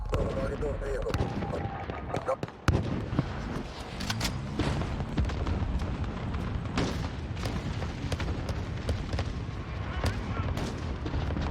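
An explosion detonating in Call of Duty Modern Warfare, a sharp heavy blast partway through a busy stretch of gunfire and game noise, with a player talking over it.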